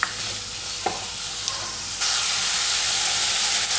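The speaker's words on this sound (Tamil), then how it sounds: "இப்போ நம்ம சேர்த்துருந்த தக்காளி நல்லா வதங்கி மசிஞ்சு வரட்டும்." Tomatoes sauté in a pan for tomato coriander chutney, giving a steady hissing sizzle with occasional stirring scrapes; the frying grows louder and brighter partway through.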